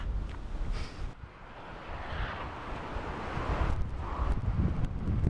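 Strong headwind buffets the microphone in stormy weather, gusty roaring rumble and rustle rising and falling throughout, fairly loud, with no talk.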